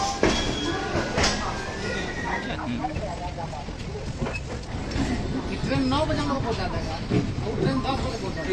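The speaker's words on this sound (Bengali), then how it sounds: "আমাদের ট্রেন কারেক্ট টাইমে ছেড়ে দিল হাওড়া স্টেশন থেকে" The Howrah-Amritsar Mail pulls out of Howrah station with a rumbling, hissing train wash and some rhythmic wheel clatter, while voices and background chatter run over it throughout.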